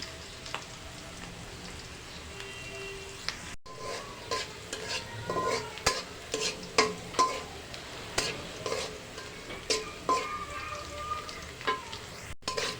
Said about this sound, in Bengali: ভেজে নেব হালকা লাল লাল করে পেঁয়াজটাকে